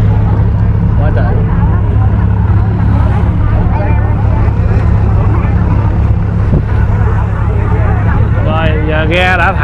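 Boats move out on the sea during a sea-worship festival in My Long, Tra Vinh, their engines a loud, continuous low rumble mixed with wind buffeting the microphone, while a person talks over it throughout.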